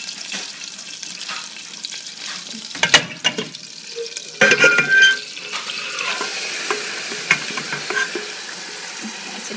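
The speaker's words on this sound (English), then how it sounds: "That's exactly what I want to hear, it's a sizzle." Butter sizzles and crackles in a hot pan, with occasional stirring scrapes and bursts of louder spitting; no one speaks.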